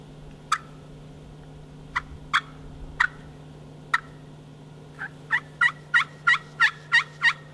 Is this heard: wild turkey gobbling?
yes